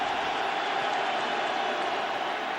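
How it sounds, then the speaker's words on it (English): A football stadium crowd during an NFL game between the Chicago Bears and Minnesota Vikings, heard as a loud, steady roar that holds evenly without breaks. "Crowd getting into it."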